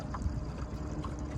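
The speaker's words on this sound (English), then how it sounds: "And now we'll go do some exploring from the dinghy." A small dinghy moves across a sheltered bay in Palawan, Philippines, with a steady, faint wash of water and wind rumble and no voices.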